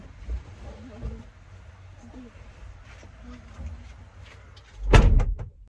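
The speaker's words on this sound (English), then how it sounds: "I gotta shut the door" A door is shut with one loud thud near the end. Before it comes quieter rustling and movement in a home, and a person talks lightly now and then.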